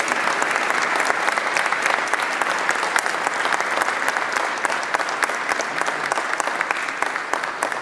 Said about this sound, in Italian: con un applauso eh, di incoraggiamento a noi e a tutti